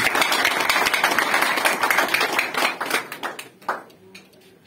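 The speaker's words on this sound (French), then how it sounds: "Applaudissez la Trinité, s'il vous plaît." A church congregation at an evangelical service claps and applauds loudly in a dense, sustained burst that thins out and fades toward the end.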